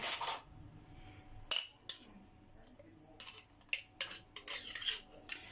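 A metal spoon clinks and scrapes against a container of homemade country-style clarified ghee (samna baladi) in a home kitchen, several short clinks and rubs spread across a quiet background.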